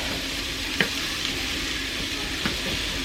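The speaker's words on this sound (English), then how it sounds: "It gives that good fried potato goodness." Potatoes fry in a hot pan with a steady, close sizzle and crackle, broken by a couple of sharp clinks and scrapes as they are stirred.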